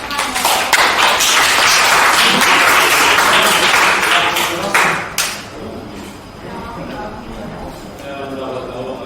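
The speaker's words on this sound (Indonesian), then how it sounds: "Kita berikan tepuk tangan untuk" Classroom applause after a call to clap for a group's math presentation, a loud dense burst of many hands lasting about five seconds before fading into quieter room noise.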